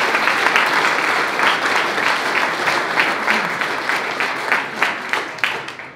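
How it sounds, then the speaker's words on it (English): Steady, dense applause from a large audience fills the space, loud and sustained without a break. "Big round of applause for Phil Greco's head trainer, Fernando Varg"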